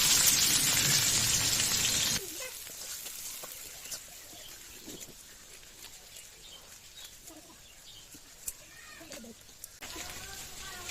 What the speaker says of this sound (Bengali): আমার পেঁয়াজ আর মরিচ কিন্তু ভাজা হয়ে গেছে